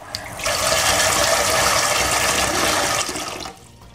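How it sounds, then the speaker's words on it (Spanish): Water from a tap gushes loudly into a cooking pot for about three seconds, a steady close hiss and splash that tapers off as the flow stops. "Empezamos poniendo agua en una olla."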